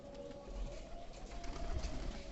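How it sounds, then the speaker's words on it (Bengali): Pigeons in a loft housing around fifty or sixty birds give soft, low cooing over a steady ambient hum, with faint wing and movement sounds throughout. "অনেক কবুতর, প্রায় 50টা 60টা কবুতর আছে।"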